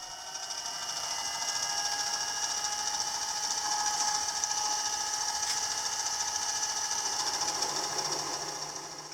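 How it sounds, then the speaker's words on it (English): A 12.4 mm countersink bit cuts into drilled 6 mm holes in steel side plates for a knurling tool, giving a steady, fairly quiet whirring drone with a high metallic whine throughout. No voices. "And now we move on to countersinking."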